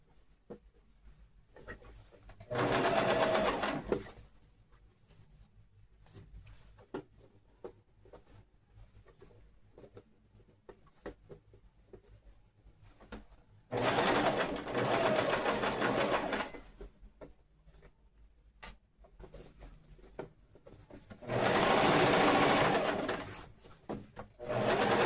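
A sewing machine stitches the hem of a dress trouser in three loud bursts of rapid whirring separated by quieter pauses with fabric handling and small clicks, and no voices.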